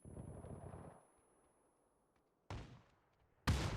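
A grenade blast in the console esports match of PUBG: a muffled rumble fades into near silence, then two sharp, loud bursts strike in quick succession, the last one heavy and close.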